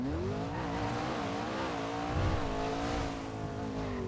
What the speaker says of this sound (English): This car's too loud.